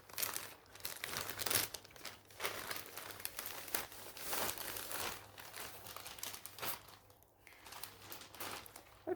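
Plastic packaging from a Temu parcel is torn open and handled, giving a long run of close crinkling and rustling bursts at moderate level, with no talking.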